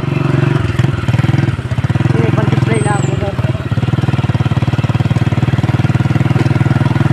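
A small motorcycle engine runs close and loud with a steady, rapid chugging pulse throughout, while people talk over it in the background.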